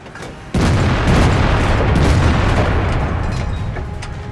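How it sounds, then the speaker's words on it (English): A Soviet IS-5 heavy tank's cannon fires in World of Tanks, a single loud boom that rolls into a long, heavy rumble lasting several seconds. "Now for shooting at a mobile target."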